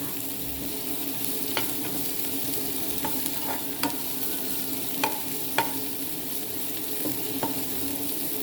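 Chickpea curry with shallots sautéing in a pan for Kerala kadala curry, a steady close sizzle broken by sharp spoon-on-pan scrapes and taps every second or so.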